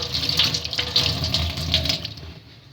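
Tap water pours over the back of an ice tray in a sink, a steady splashing stream with uneven spatter that tapers off toward the end.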